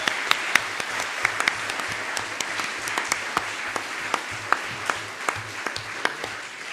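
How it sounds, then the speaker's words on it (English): Steady applause from a conference audience at a digital heritage summit, a dense even patter of many hands with some sharper nearby claps standing out, sustained for several seconds without voices. "can I also ask for a round of applause for the Europeana team"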